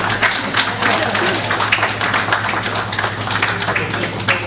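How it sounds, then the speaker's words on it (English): An audience at a poetry event claps steadily and dense applause fills the room throughout. "So more applause please."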